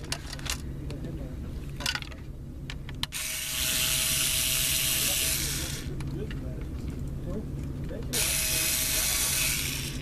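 A power driver whirs in two long sustained bursts while backing screws out of the hinges of a Dell Latitude 6440 laptop, with quieter clicks and handling noise between them and a voice speaking over the top.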